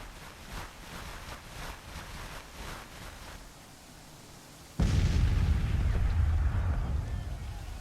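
Cannon or artillery fire in a war video game: a single heavy, booming blast lands suddenly midway and leaves a long rumbling roar, after a quieter stretch of rhythmic battle noise.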